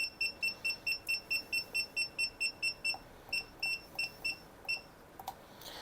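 A Grainfather brewing system's timer beeps at boil while brewing a Guinness Irish stout clone: a quick, even run of about a dozen high, bright beeps, then a sparser, irregular few. No one speaks.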